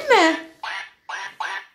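An educational baby toy plays a short duck quack sound, a squawky electronic voice followed by three brief clipped bursts, loud and close in a quiet room.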